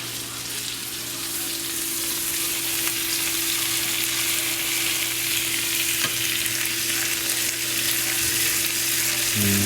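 Steak sizzling in a pan with garlic butter, a steady, loud, continuous fry with a constant hum underneath, no talking.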